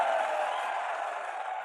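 Audience at a CSC Diwas 2025 Common Service Centre event in a hall, clapping in a steady, dense wash of applause that fills the whole moment and fades slightly toward the end.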